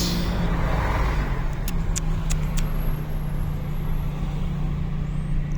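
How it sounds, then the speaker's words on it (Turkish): A bus passing by on a street, a broad steady engine rumble and road roar holding loud throughout, with a few short high hissing bursts like air brakes midway. "Bir de otobüs geçer."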